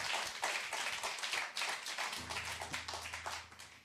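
Audience applause at a live radio studio session with a country singer: a few seconds of steady clapping from a modest crowd that gradually thins out.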